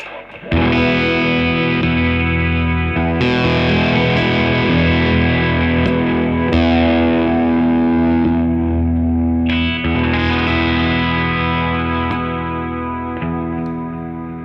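An electric guitar chord is strummed through a pedalboard with the signal phase flipped, several sustained distorted strums with heavy effects and a thick low end, each ringing out and decaying, loud and close.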